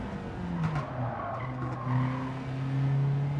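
Racing car in a sim racing game played on a direct-drive wheel with a load cell brake pedal, engine drone with tire squeal and skidding under braking, continuous and fairly close.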